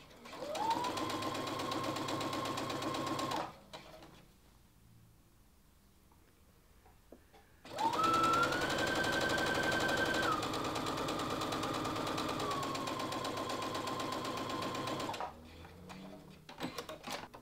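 A sewing machine stitches fabric scraps together with a 1/4 inch seam, running in two steady, loud bursts of rapid mechanical chatter separated by a quieter pause.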